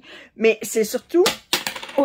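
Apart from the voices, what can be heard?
small metal thread-cutter pendant dropped on a table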